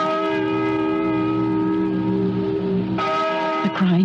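A bell rings in an old barn as a radio-drama sound effect, holding steady, sustained tones for several seconds before a fresh, brighter strike near the end.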